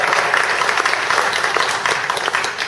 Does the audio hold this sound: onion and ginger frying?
no